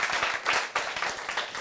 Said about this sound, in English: Big round of applause, Mr. Martini, everybody.